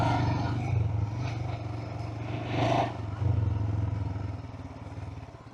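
Royal Enfield Himalayan 411 motorcycle ridden off-road, a steady close engine drone with a brief louder surge midway and clattering over rough ground throughout.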